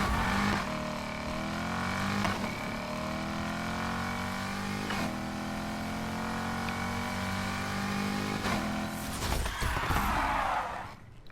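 A car in the NFS Heat video game revs hard and launches in a drag race, a loud, steady engine note climbing through gears, with a sharp burst and shift near the end.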